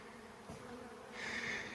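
Honey bees buzzing in the field near a small honey extractor set up outdoors, a steady insect drone that swells louder in the second half with no talk.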